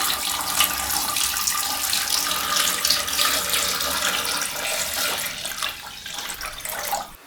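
Water gushes steadily from a tap into a pot holding pork knuckle and beer, a close, continuous splashing rush that eases off near the end.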